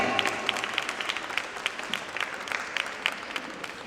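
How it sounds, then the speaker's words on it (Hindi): An audience at a health and wellness expo inauguration applauding a speaker being welcomed, a steady mid-distance patter of many hands clapping throughout the short burst. "तालियों की गड़गड़ाहट के साथ कविता जी आपका स्वागत है"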